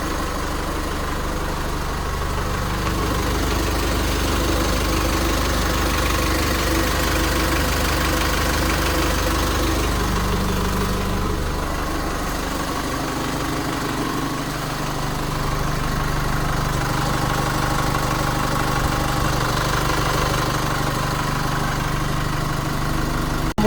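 A Chevrolet Trailblazer engine idles steadily with a low, even rumble and a faint mechanical ticking, close and continuous with no talking.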